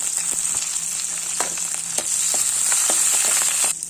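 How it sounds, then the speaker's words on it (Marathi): Chillies, curry leaves and asafoetida sauté in hot oil after mustard seeds have popped, a steady close sizzle broken by several crisp spatula scrapes and taps, with no speech. "मोहरी तडतडल्यानंतर मिरची कढीपत्ता हिंग एकदा परतून घेऊया"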